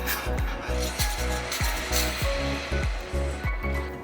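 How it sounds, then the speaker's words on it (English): Sugar and ginger are stirred into boiling water in a pot, making steady rhythmic scraping strokes about twice a second with soft low knocks, over a continuous bubbling hiss, close and fairly loud with no talking. "I'm adding the sugar and the ginger, and I want to stir"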